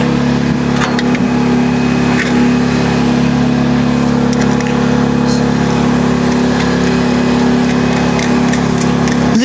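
An American-brand engine on an HY14C/HY16C machine runs steadily at idle, a loud continuous mechanical drone with an even hum and no change in pace throughout.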